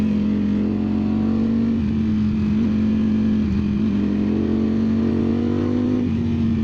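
A 2025 Ducati Streetfighter V4S motorcycle being ridden, its engine holding a loud steady drone with slight rises and dips in pitch and constant wind rush throughout.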